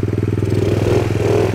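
Dirt bike engine revving high and steady, a loud close buzzing drone with rapid pulsing throughout, no voices.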